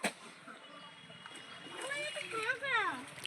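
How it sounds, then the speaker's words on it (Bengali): Water splashes and pours while a child's head and hands are washed, close by and steady, with a voice talking over the splashing. "ও মাথায় জল হাতটা ধো হাত ধো"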